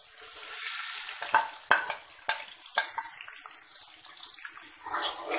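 Onions sizzling as they fry in hot oil with whole spices for chana pulao, a steady hiss with a few sharp crackles and utensil taps, fairly close and alone.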